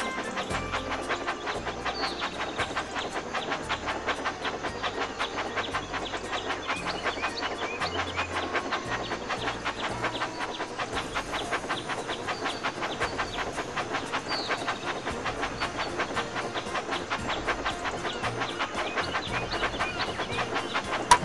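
A small toy train in a video game rattles along its track in a fast, steady clickety-clack rhythm that runs on and on, with no talking.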